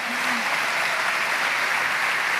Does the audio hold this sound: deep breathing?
no